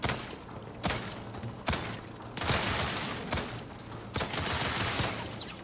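Repeated bursts of turret gunfire and blasts from an explosion in the video game The Outer Worlds 2, five sharp loud volleys about a second apart over a dense, rumbling din, with no talk.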